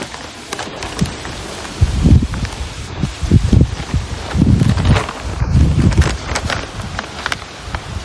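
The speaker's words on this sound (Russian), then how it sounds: "Ветер, ого." Strong gusts of wind rustle leaves in a garden in gusty surges, loud and close, with wind buffeting the microphone.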